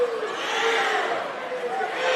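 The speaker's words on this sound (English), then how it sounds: "The fans are doing the cheer over there on the South Warren side." South Warren basketball fans chant a cheer in the stands at a district tournament game, a loud, rhythmic crowd sound that swells and dips, with a distant whistle-like tone coming through.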